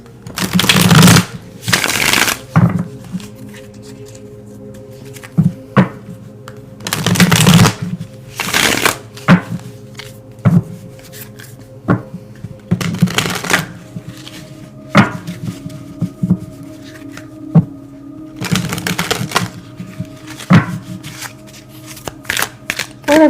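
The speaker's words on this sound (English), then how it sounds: "I am going to pull some tarot cards here, in addition to these oracles." Tarot cards are shuffled up close in repeated bursts of riffling and flicking, separated by short pauses and softer handling, with light tapping and sliding of the deck in between.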